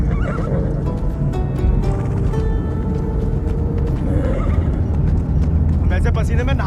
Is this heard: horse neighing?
yes